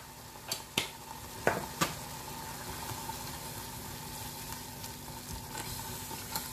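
Red chili powder and paprika frying over high flame in a pan, a soft steady sizzle with a few sharp spoon scrapes and clinks near the start, then a quieter continuous hiss.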